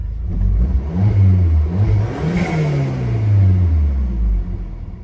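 Volkswagen Tiguan engine fitted with a motor mount spacer, revved in a few rising and falling swells, a loud close rumbling hum with no talk.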